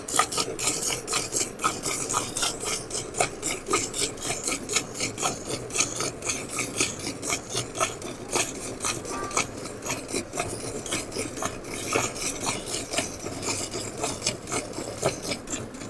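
Hand milking of a freshly calved cow on a dairy farm, with thin and thick milk streams hissing and rasping into a pail in a steady rapid rhythm, close and continuous without talk.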